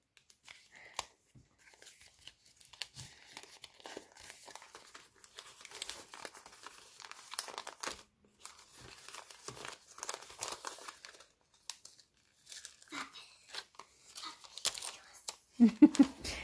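Gift packaging from a birthday parcel is unwrapped up close, with paper crinkling, rustling and occasional tearing in irregular bursts, and a brief voice near the end.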